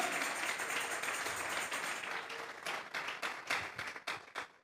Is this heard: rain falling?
no